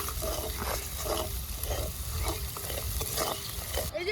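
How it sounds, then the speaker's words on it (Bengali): Spice masala stir-fried in a pan for an outdoor village-style koi fish curry, with a steady sizzle under repeated scraping strokes of a spatula, close and continuous. "এবার নাড়াচাড়া করে কষিয়ে নেব মশলাটা"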